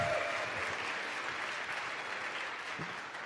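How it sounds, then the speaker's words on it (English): Audience applause at an Ignite Seattle talk event, a steady crowd clapping for a mother and daughter that fills the short stretch and fades slightly toward the end, with no speech. "Round of applause for Meg and her mom here."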